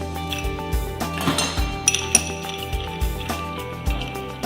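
Ice cubes clink and rattle against a mixing glass as a whisky cocktail is stirred, a run of close, bright clinks over steady background music.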